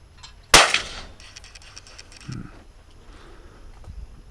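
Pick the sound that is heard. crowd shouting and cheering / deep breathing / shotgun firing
shotgun firing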